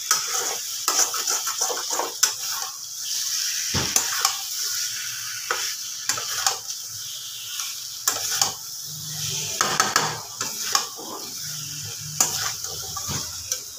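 Potatoes with spices are stirred in a pan for Bengali aloo dum, with repeated scraping and clattering strokes over a low, continuous sizzle, close by and without talk.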